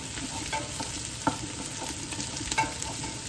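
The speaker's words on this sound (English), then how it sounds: "I'm going to put in my 1 clove of garlic, which I chopped. I'm going to give that a stir, 30 seconds." Chopped garlic frying in a pan while being stirred, giving a soft steady sizzle with several light scrapes and taps of the spoon, fairly quiet and with no talking.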